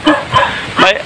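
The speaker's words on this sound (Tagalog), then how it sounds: "Nananahol yung aso." A dog barks in a rural field near a carabao wallow, giving three short, loud barks in quick succession, close by.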